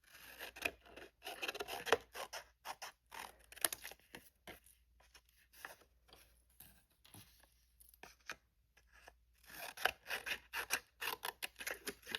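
Scissors cutting out a paper image for a junk journal Easter tag, close, quiet snips and crisp paper rustling in irregular bursts, with a dense run of rapid cuts at the start and again near the end and a softer handling stretch between.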